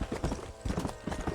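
Horse hooves clip-clopping at a quick gallop in the Western video game Red Dead Redemption, a close, steady rhythmic beat in bursts, with no talk.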